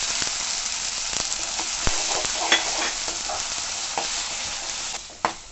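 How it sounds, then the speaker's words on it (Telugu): Ginger garlic paste sizzles and fries steadily in a pan, a continuous dense crackle with occasional louder pops and stirring scrapes, close and alone with no voices. "అల్లం వెల్లుల్లి పేస్ట్ వేగిందండి"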